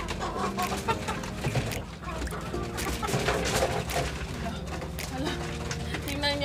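Free-range chickens feeding in a rural yard give frequent overlapping clucks amid pecking and rustling nearby, while a person talks over them.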